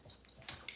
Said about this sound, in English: I don't know if you can hear our dog